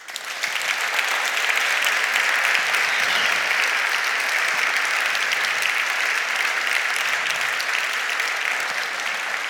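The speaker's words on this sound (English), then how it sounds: "I think we should give her another round of applause." Sustained applause from a lecture audience at the 2019 SIPRI Lecture, a dense, even wash of clapping that swells quickly and holds for several seconds with no speech over it.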